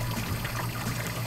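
Water runs steadily from an outdoor faucet at dusk, a continuous close splashing trickle with no voices, holding even for the whole short stretch.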